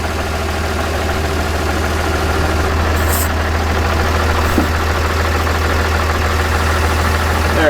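A 35-year-old road grader's diesel engine idles after a cold start, a steady, heavy low rumble running the whole time with a faint knocking texture and nobody speaking.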